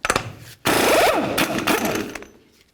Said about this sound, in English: remove your axle nut.